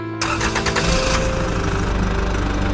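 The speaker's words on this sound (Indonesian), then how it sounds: "Mesin dihidupkan dan mobil meraung dengan suara mengerikan." A police car's engine cranks and catches, then settles into a loud, rough steady roar that holds close and unbroken to the end.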